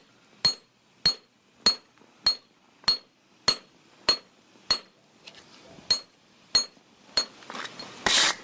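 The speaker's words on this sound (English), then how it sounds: "if I use the hammer this way, it stretches it more out in length" Hammer forging a blade, about a dozen evenly spaced ringing metallic strikes with a bright clinking tone, each decaying quickly before the next, close and clear, with a louder scraping burst at the very end.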